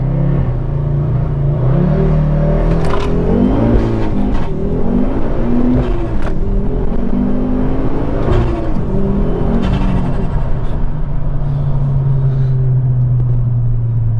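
A four-wheel-drive Ford Focus ST engine rumbles and revs steadily under hard acceleration, held at a sustained high pitch around 4,500 rpm, loud and continuous throughout.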